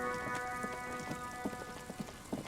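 Rain in the video game Disco Elysium, a soft, steady patter of drops with irregular light taps and knocks, faint and even, with no voices over it.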